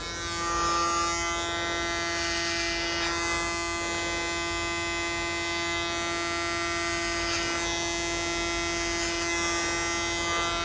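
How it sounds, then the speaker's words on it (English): A Panasonic hair clipper buzzes steadily while cutting a textured bob, a continuous close electric hum with faint brief surges as the blades pass through hair, no talking. "I'm using a Panasonic clipper."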